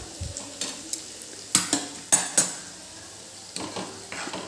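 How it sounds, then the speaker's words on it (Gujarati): A spoon stirs paneer kadai gravy in a pan over low heat, making several sharp metallic scrapes and clinks against a soft background sizzle, close and distinct. "એક વખત આને આપણે સરસ હલાવી લઈશું"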